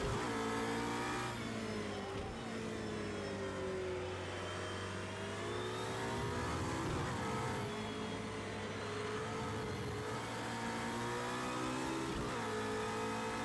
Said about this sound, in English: this car just sounds glorious though